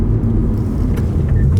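Lada Vesta Sport with a six-speed gearbox accelerating on a race track, a loud, close, steady low engine rumble filling the cabin throughout.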